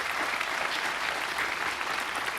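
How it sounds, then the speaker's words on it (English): A choral-concert audience claps in steady, dense applause that stays even throughout, close and fairly loud, with no voices standing out. "Can we do a round of applause for Dr. Oster and Ethan Holmes on piano"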